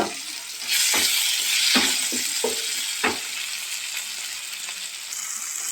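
Chopped onions and tomato fry in a hot pan for a spicy puti fish curry, giving a steady close sizzle that swells as the tomato goes in, with occasional sharp clicks from stirring.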